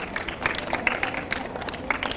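A live audience claps for quiz contestant Chandrakantbhai, a moderate patter of hand claps with scattered louder strikes, fairly close and with some voices mixed in.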